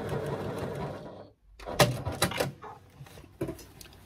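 A sewing machine stitches along the bottom of a bag in short bursts of whirring and clatter, with pauses between runs, close and fairly loud, with no talk.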